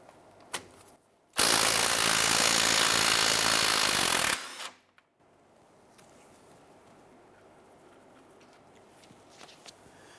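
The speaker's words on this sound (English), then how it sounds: "You use our 19mm socket, loosen that nut." A power tool on a 19mm socket spins loose the outer tie rod nut on a Jeep Grand Cherokee in one loud, steady burst of about three seconds, with faint clicks and handling noises around it.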